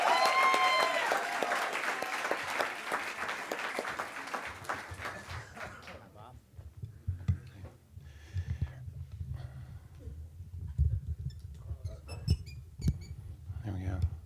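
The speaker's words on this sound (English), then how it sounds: "let's give a huge round of applause for Bob" Audience clapping and cheering as a doctor comes on stage at a talk, loud at first then fading after about six seconds into scattered sounds and murmurs.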